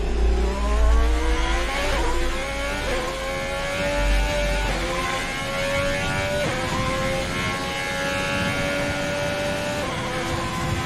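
Formula 1 car engine in the F1 2020 racing game at the Brazilian Grand Prix, revving loud and continuous with repeated rises in pitch as it climbs through gears, steady and close with no talk.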